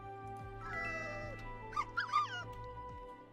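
A pet dog in a video game whimpering and yipping in short high whines, close and fairly soft over a steady game music backdrop.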